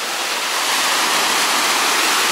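Surf from rough sea at Cleopatra Beach, Alanya, makes a loud, steady rushing hiss close by, with no voices over it.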